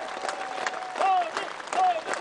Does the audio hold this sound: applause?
yes